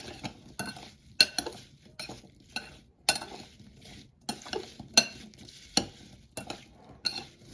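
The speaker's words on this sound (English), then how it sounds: "Okay, I mix." A utensil stirs apple cake batter in a bowl, with irregular scraping and sharp clinks against the sides, quiet and close with brief pauses between strokes.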